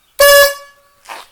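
A single short, loud beep from a 1972 Camaro's high-note horn with a bright high-pitched tone, close up, followed by a faint brief rustle.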